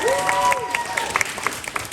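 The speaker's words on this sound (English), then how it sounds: "round of applause for that." Scattered applause from a small audience at a Black art fair in Toronto, light claps with some voices mixed in and a brief whistle-like tone at the start.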